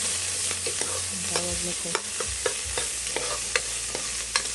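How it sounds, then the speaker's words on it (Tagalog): Garlic and red onion sautéing in a pan, with a steady sizzle broken by frequent rhythmic clinks and scrapes of a spatula stirring against the metal, and a brief spoken phrase near the start. "So ngayon may magisa tayo ng ricado, ahos at saka"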